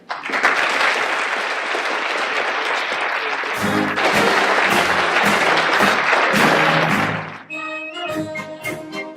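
A crowd applauds loudly and steadily for several seconds, the clapping thinning out near the end as music begins.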